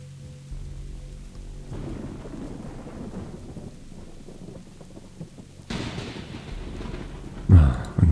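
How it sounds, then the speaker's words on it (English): Storm in the video game Reclaim the Sea: a steady wash of rain with low thunder rumbling underneath, swelling louder near the end with a sharp crack, no voices. "Probably lightning will strike again."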